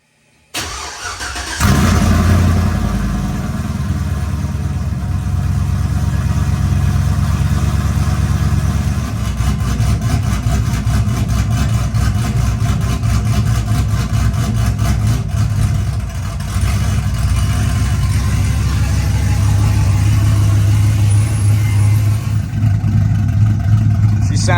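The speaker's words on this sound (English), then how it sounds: "let's crank it up, see what she sounds like." A cammed V8 with cut exhaust and aftermarket mufflers cranks briefly, catches and settles into a loud, choppy, lumpy idle that drones on steadily close to the microphone, hollow and rough throughout.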